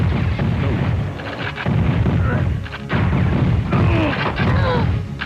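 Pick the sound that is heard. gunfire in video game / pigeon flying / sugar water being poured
gunfire in video game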